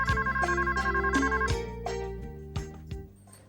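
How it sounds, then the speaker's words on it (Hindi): A telephone rings with a repeating electronic ringtone melody, loud and close, running for a few seconds before tailing off, with no one talking over it. "चंद्रिका का फोन है"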